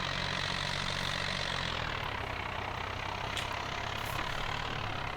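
Steady engine drone from a tractor in Farming Simulator 25, a loud continuous low rumble with dense broadband noise that holds evenly throughout, shifting slightly in tone partway through, with no talking.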